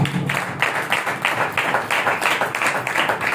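A congregation at a Christian church service claps in a steady rhythmic beat, roughly two claps per second, fairly close and loud, with no speech over it.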